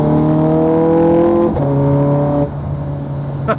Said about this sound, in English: a beautiful sounding Ferrari V8 behind me